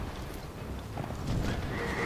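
The horse pulling the Executioner's Chariot in Dark Souls 2 lets out a loud, sustained neigh over a dense, constant rumble of in-game noise and hoofbeats.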